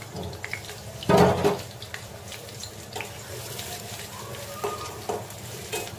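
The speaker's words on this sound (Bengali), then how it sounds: "ডালটাকে বাগার দিয়ে নিচ্ছি।" Dal tempered in hot oil with a spiced baghar sizzles sharply in a loud burst, then settles into softer frying crackle with scattered stirring clinks in a home kitchen.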